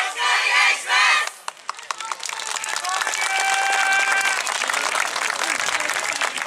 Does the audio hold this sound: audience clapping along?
yes